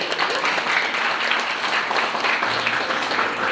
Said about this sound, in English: Let's have a big round of applause for us.